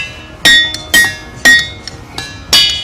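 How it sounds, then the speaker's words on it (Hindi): A hammer strikes the ringing rocks of Pennsylvania five times at uneven intervals, each sharp clink blooming into a clear, bell-like metallic ring that fades quickly, heard close with no talking. "जब इन पत्थरों पर हथौड़े से चोट की जाती है तो ये सुरीली आवाज निकालने लगते हैं।"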